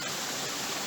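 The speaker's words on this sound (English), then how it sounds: "it's a waterfall and the sound of water makes me pee a lot" Tillingbourne Waterfall in Surrey gives a continuous, loud, broadband rush of falling water, close and steady for a full second with nothing else heard.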